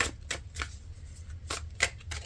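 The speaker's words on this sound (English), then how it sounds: "As I'm shuffling out your cards" A deck of tarot cards is shuffled close by, giving several quick, crisp riffling bursts spaced unevenly over a couple of seconds, fairly quiet and without talk.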